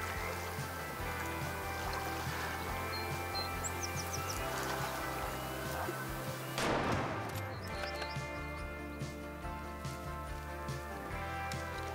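A single loud hunting rifle shot fires in the Way of the Hunter video game, a sharp crack with a brief echoing tail over a steady ambient bed of outdoor game sound, with no talk.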